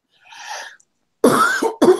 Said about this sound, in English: I've been talking a lot, and that's making a cough.